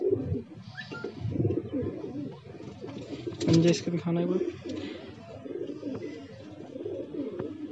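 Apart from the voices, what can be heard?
Madrasi pigeons cooing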